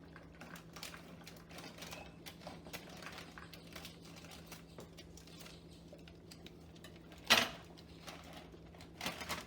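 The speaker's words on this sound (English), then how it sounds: "I'm going to use my scissors" Small clicks and crinkles of a cereal package being handled, then a sharp crisp snip as scissors cut it open, with a faint steady hum behind.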